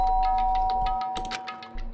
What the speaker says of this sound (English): pressed the doorbell